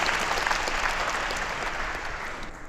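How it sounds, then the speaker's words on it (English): A live audience at an onstage business talk with Paris Hilton breaks into a short, full burst of clapping that stays close and steady, then tapers slightly at the end. "Maybe one quick round of applause for that."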